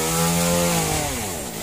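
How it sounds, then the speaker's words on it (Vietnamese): A chainsaw runs steadily and loud, its engine droning at a high pitch and dropping slightly as it bites into small trees in a garden, with no voices over it. "Đây thì ba của Toàn đang cắt những cái cây nhỏ bên dưới"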